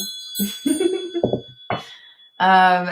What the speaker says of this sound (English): we're going to call in spirit with a little bit of wind chime time